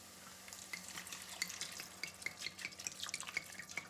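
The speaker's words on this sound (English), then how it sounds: "Let's add our white wine." White wine poured into melted butter in a pan for a spaghetti and clam sauce, a close, bright crackling sizzle with small popping spatters and liquid bubbling.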